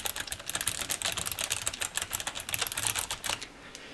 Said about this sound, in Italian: Adesso vi facciamo sentire il rumore prodotto da questi nuovi switch.